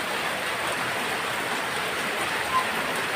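Steady, dense rain pours without a break, a loud, even hiss filling the whole stretch with no voices over it.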